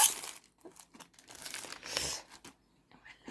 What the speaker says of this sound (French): C'est pas le même bruit, le plastique.